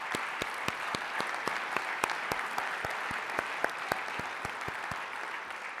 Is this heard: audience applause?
yes